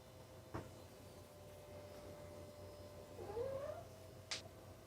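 A cat gives a rising meow, close and fairly clear, against a steady low room hum, with a couple of short knocks around it.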